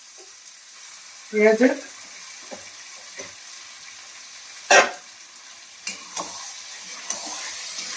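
Fish curry with green peas cooking in a wok, giving a steady low sizzle with a few stirring scrapes and clicks, and a voice speaking briefly near the start.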